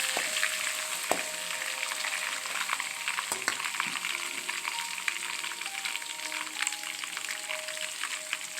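Chili chicken ingredients frying in a pan, a steady close sizzle with occasional clicks and scrapes from stirring, fairly quiet and continuous.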